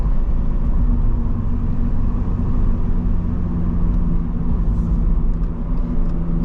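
A Subaru BRZ engine droning loudly and steadily from inside the car during a city drive, a deep continuous rumble with no talking.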